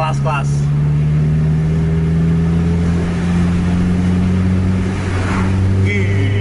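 Heavy truck engine revving in dense traffic beside a bus, a loud sustained low drone with steady humming tones that climb and fall, close and continuous, with a faint voice over it.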